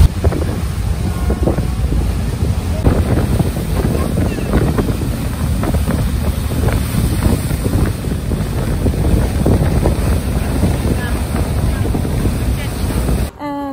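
Steady rumble of a ferry's engine near Capri, Italy, with wind buffeting the microphone and water noise, continuous and loud throughout, with faint voices underneath.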